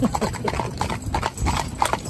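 Hooves of a four-in-hand horse team clip-clopping on a road, a quick, regular trotting rhythm heard close and fairly loud, with someone talking over it.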